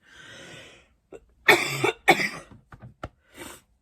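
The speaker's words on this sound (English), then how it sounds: "This cough needs to go away." Several harsh human coughs in quick succession, close to the microphone, after a softer breathy sound, with brief pauses between bursts.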